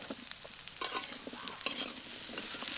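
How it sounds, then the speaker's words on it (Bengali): Mixed vegetables, pumpkin, beans, ridge gourd and eggplant, stirred in a frying pan, with a quiet continuous sizzle and repeated scraping strokes of the spatula. "আবারও কিছুক্ষণ নেড়ে নেব।"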